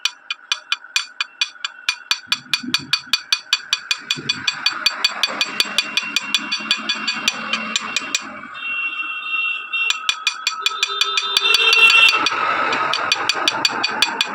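Light metal taps of a hand file striking a ceiling fan part during a jam repair, a steady run of close, sharp, even knocks with a few brief pauses and a short scraping patch midway.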